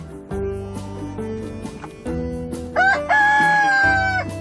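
At a chicken coop, a rooster lets out a loud, close crow in the second half, rising sharply and holding a long strained note over a low steady background hum.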